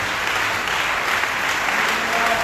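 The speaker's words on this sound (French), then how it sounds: "il n'a pas parlé aux autres, mais nous applaudissons." Church congregation applauding during a Sunday worship and praise service, a dense, steady wash of clapping from many hands filling the room without a break.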